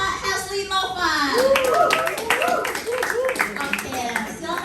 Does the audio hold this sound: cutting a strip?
no